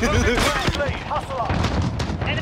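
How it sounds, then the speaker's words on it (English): Cruise missile strike in Modern Warfare, a loud, close booming blast with rumbling artillery-like impacts and scattered gunfire, voices briefly audible beneath the chaos. "Enemy cruise missile incoming."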